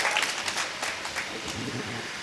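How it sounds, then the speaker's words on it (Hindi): An audience at a mushaira poetry gathering claps steadily in welcome, a dense wash of applause that stays even throughout. "आपसे गुजारिश है पुरजोर तालियों से डॉक्टर साहब का इस्तकबाल होना चाहिए।"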